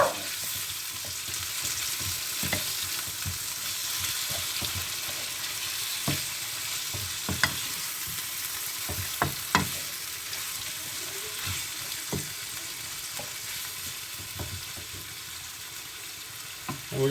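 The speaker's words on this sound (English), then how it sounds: "Give this a quick stir so it doesn't stick too much." Chicken stroganoff sizzles steadily in a pan, broken by scattered scrapes and knocks of a utensil stirring it, close and continuous with no talk.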